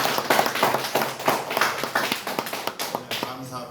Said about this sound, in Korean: 박수 한번 하면